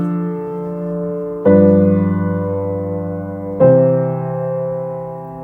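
Three sustained piano chords sound in sequence, a tonic moving to a root position ii chord, each struck cleanly and left ringing as it slowly decays, loud and alone.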